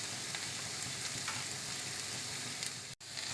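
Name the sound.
stirring instant dosa batter in a bowl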